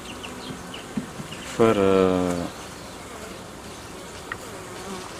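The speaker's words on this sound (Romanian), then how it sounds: "Deci așa se formează un roi" Bees forming a swarm at a hive give a soft, steady hum under the background, with a brief louder buzzing burst close by for about a second; someone speaks quietly.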